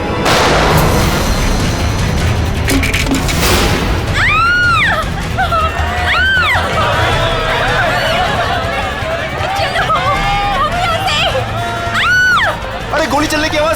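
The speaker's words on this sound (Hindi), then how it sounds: "गोली चलने की आवाज कहाँ से आई?" Several sharp gunshot-like cracks ring out, spaced a few seconds apart, over a busy background of shouting voices and commotion.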